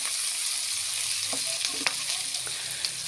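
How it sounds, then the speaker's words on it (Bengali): Green chilies and onion fry in hot oil with a constant close sizzle, with a few light scrapes and stirring clicks over the hiss and no voices. "এখন আমি ঝাল পেঁয়াজ তেলে দিয়ে দিতেছি।"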